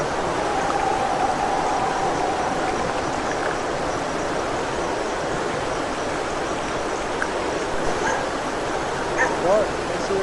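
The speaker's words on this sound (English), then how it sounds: "Coyotes, yep." Coyotes yip and howl faintly in the distance near a lake at night, their high wavering calls rising over a steady outdoor hiss, with a person talking nearby.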